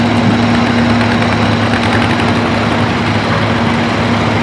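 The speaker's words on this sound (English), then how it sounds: "driving a nice looking John Deere 1953 John Deere 40 standard model and a 4412 flat wing two bottom plow" A 1953 John Deere 40 Standard tractor pulling a two-bottom plow runs loud and close, its engine throbbing in a steady low rumble with a constant hum and no voices over it.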